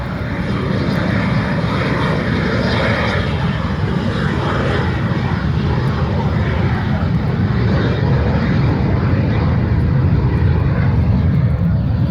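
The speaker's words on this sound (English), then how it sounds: "It's always kind of cool to start off an air show with a jet." An L-39 jet at an air show gives a loud, steady engine roar that holds for the whole stretch, a broad continuous rumble with a hissing upper edge and no breaks.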